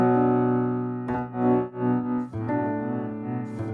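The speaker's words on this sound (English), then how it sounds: "let me demonstrate the grain delay here" Sustained synth chords processed by the grain delay in the Spacer plugin, broken into fluttering, pulsing grains that swell and dip in volume over a few seconds.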